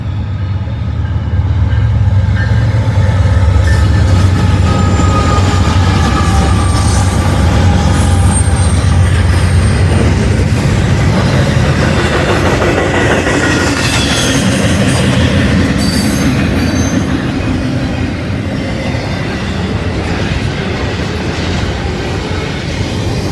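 A Norfolk Southern intermodal freight train rolls past close by, a continuous loud rumble of wheels and railcars with squealing and rhythmic clatter, no talk.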